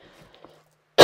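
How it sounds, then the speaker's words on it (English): A single sharp cough bursts out close and loud after near silence, brief and harsh, in an indoor crafting setting. "Very sorry about coughing."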